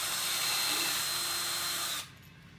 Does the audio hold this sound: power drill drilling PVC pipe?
yes